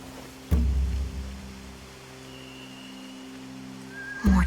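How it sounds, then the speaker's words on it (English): A horse in The Walking Dead video game, with two short bursts like snorts or whinnies at the start and end over a steady low hum and faint background ambience. "They have horses."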